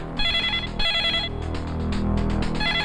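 A telephone rings with bright electronic bell trills in two or three bursts, loud and close, over a film's background music.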